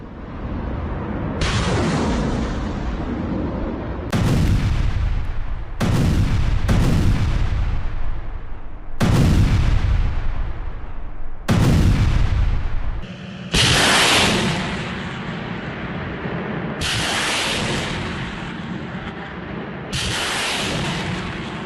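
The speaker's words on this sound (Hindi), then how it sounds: "रूसी सेना ने MLRS से दागे गोले।" Russian army MLRS rocket artillery firing in Ukraine: about eight loud, heavy launch blasts in a row, each with a roaring rush that decays over a second or two, alone without speech.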